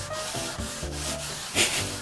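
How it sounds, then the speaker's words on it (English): Wood being sanded by hand while building an herb garden: steady, rhythmic rubbing strokes, close and fairly loud, with a brief harsher scrape near the end. "It's time to start sanding."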